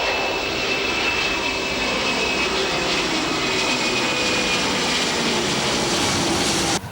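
Airplane engine roaring steadily at takeoff, a loud continuous broadband rush with a faint high whine, holding constant before cutting off abruptly at the end.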